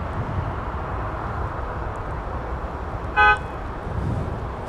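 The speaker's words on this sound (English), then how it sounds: "Somebody's honking." A single short car horn toot sounds at a distance against steady outdoor traffic and airport ambient noise near MSP Airport.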